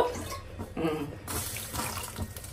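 Water pours steadily into a cooking pot while tomato rasam is being prepared, a soft continuous splashing and trickling heard close by in a quiet kitchen, with faint background noise.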